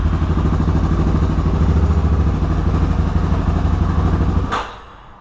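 A Yamaha Warrior 350 ATV engine runs loud and close with a steady, rapid mid-pitched thrum, then cuts off abruptly near the end with a short clatter.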